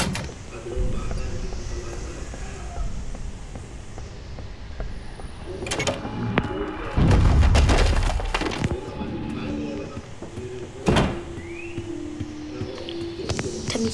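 A door in the Roblox horror game Doors swings shut on its own, landing as a dull thud among eerie game ambience and other clunks, with a second knock following a few seconds later.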